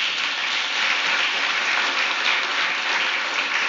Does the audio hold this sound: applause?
yes